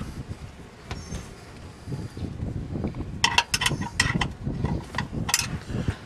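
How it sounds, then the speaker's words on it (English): A 7/16 combination wrench turns bolts clockwise while fixing a squeaking universal joint on a 2003 Chevy Avalanche, giving a quick series of light metallic ratcheting clicks over a low mechanical background, with no talking. "so turn the bolts clockwise to tighten them"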